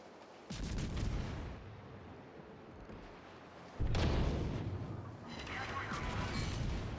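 Naval broadside gunfire in World of Warships, two heavy booming salvos with rumbling tails, the second louder, over a continuous battle ambience.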